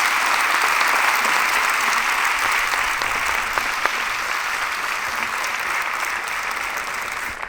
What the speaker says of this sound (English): A round of applause for Ronnie.